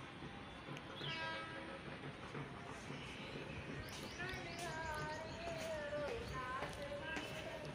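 An empty DEMU passenger train with special coaches, heard from outside on the platform as a continuous rumble with a horn-like tone and faint rail clatter, while a voice talks over it and birds call in the background.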